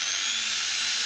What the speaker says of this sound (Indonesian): kita memakai mesin gerinda tangan ya bosku ya untuk proses pengamplasannya